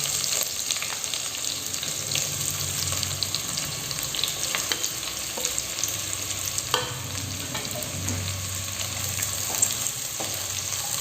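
Onions fry in hot oil and ghee spiced with cardamom, cloves and star anise for biryani, a continuous close crackling sizzle with occasional stirring knocks and scrapes throughout, with no voices.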